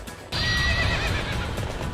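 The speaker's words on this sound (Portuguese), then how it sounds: "Olha os cavalos." Cavalry horses of the Takeda clan neigh in Warriors Orochi 3 Ultimate Definitive Edition: a loud, sustained whinny breaks in sharply after a brief low rumble and rings on over dense battlefield noise.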